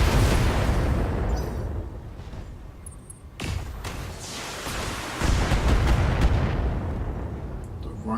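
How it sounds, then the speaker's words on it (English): A mech in the BattleTech video game fires a full weapon salvo, a loud, dense barrage of booming blasts and rumbling explosions that swells, briefly dips, then surges again and rolls on throughout. "Firing a full salvo."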